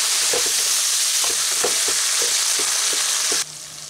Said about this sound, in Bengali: বরবটিটা ভেজে নেওয়ার সময় আমি সামান্য হলুদ আর সামান্য লবণ দিয়ে বরবটিটাকে ভেজে নিচ্ছি